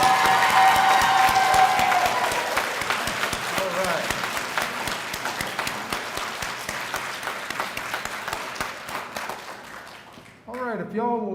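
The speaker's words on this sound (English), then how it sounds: "How about one more big round of applause for these great graduates?" Applause from a crowd at a community college health sciences graduation ceremony, loud at first and then fading into scattered clapping, with a short spoken remark near the end.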